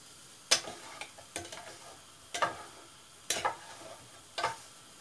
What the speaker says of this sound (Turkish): Birazcık bırakalım ki tavaya değen yerleri hafif kızarsın.